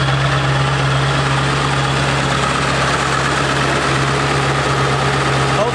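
A totaled Ford 7.3 Powerstroke diesel truck engine idles, a loud, close, continuous low drone with a steady clattering vibration.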